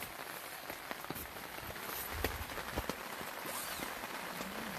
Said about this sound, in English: Probably going to be retreating to the tent soon where we can hear the rain a little less loudly.